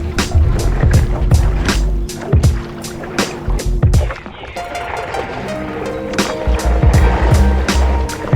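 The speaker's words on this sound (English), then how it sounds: "Crash into the iceberg, Titanic style" Stand-up paddleboard on icy Lake Ontario during a polar vortex: loud rhythmic paddle strokes and water splashes, then a crunching, scraping crash into floating ice, with strokes resuming afterward.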